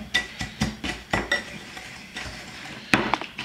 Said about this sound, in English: take my whisk, I'm gonna mix this all up